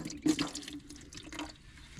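Fluid trickles and splashes from a drain plug on a Ford 8N tractor, a steady close watery pour with a couple of louder splashy bursts early on, no talking over it.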